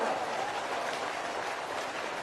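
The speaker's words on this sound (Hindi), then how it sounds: "तालियों की गड़गड़ाहट से धन्यवाद अर्पित कर" A large crowd applauds steadily at a BJP political rally in Madhya Pradesh, a continuous wash of clapping at moderate volume without any clear talking over it.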